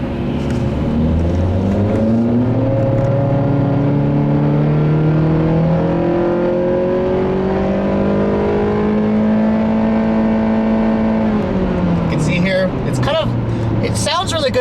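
A 2015 Honda CR-V Touring engine pulling hard under acceleration, its drone rising steadily in pitch before dropping at a shift near the end. A voice talks over the engine.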